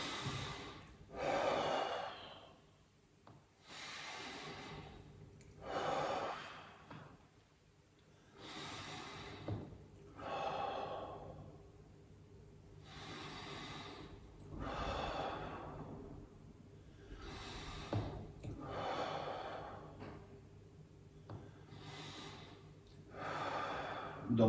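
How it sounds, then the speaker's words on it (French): Deep breathing during a Tibetan gymnastics exercise: a series of long, slow inhales and exhales, close and steady, repeating about every four seconds, with no talking. "On bloque, on inspire à fond."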